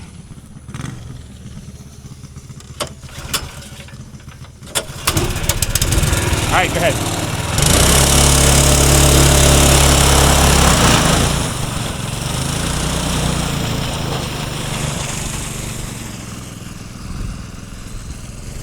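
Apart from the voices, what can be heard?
small race car engine starting and driving on a track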